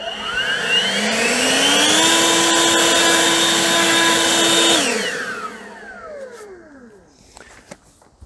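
A battery leaf blower moving pine needles on a lawn: the motor whines up to a loud steady roar close by, holds for several seconds, then spins down in falling pitch until it stops.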